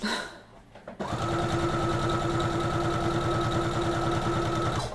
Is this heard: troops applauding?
no